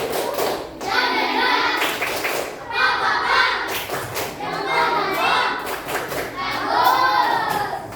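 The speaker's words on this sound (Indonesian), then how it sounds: "kasih tepuk tangan buat kelompok 3" Children in a primary-school class clap for a group in bursts of several seconds each, close and fairly loud, mixed with their excited voices and chatter.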